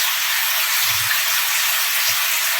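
Vegetables tossed into a hot pan while cooking Chinese-style mixed vegetables, giving a steady, loud sizzling hiss throughout with a couple of low thumps, no talking.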